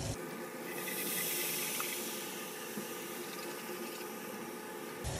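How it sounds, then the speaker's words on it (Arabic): Water in a pot for koshari comes up to the boil with a steady, close hiss and a soft bubbling rush that holds evenly throughout, with no voices. "بدأت تغلي معانا"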